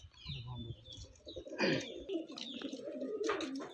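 Nearby pigeons cooing in soft, throaty bursts, with a brief flutter of wings and a faint voice in the background.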